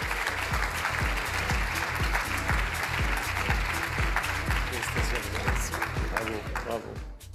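An audience applauds Claude Grison at the Prix Femme Influence 2023 award ceremony, with loud, sustained clapping over a rhythmic musical beat that fades toward the end.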